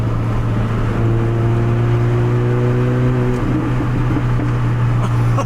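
A Mini Cooper S engine drones steadily while driving, with a low humming tone and a higher whine that drops away partway through as the revs change. The sound is loud and continuous inside the car, and no voices are heard.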